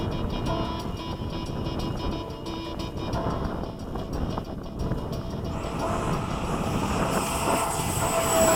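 A BAE Hawk jet's engine roars steadily at close range during a sunset takeoff at LFE, a broad sustained rumble that brightens and swells toward the end as the aircraft powers away.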